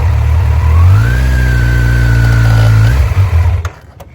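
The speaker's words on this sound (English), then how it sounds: "ease out the clutch, a little bit of gas, the rear end squats" Motorcycle engine loud and close, rising from idle into a steady revving drone as the rider eases out the clutch with a little gas, then dropping away abruptly with a few sputters.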